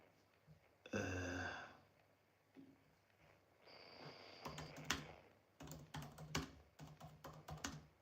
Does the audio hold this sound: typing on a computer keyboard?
yes